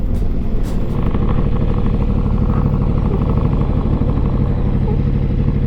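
Motorcycle ridden on Gran Canaria roads, a loud, steady engine drone with rumbling low tones and wind noise, continuous and close throughout.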